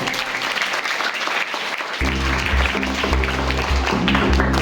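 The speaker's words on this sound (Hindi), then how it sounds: "अपने लिए ताली बजाना एक बार।" An audience claps together at a talk on Indian culture, a burst of applause that swells and holds steady for several seconds with no speech over it.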